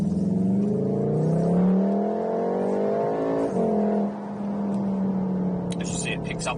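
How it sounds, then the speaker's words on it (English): A Volkswagen Golf R accelerates hard onto a 40 mph road, its engine and exhaust note climbing steadily in pitch, dropping briefly at a gearshift, then pulling again, with a voice talking over it. "So we'll accelerate out of here and see what it's got."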